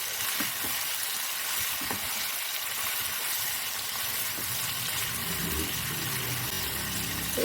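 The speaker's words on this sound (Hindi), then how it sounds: "अब हम इसे अच्छे से भून लेंगे।" Meat sizzles steadily in a pan while being fried for a korma, a constant hissing crackle that stays level throughout, with no talk.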